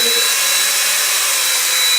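DeWalt drill stirring a bucket of ceiling paint, a steady, loud, even whir running without a break and with no voices.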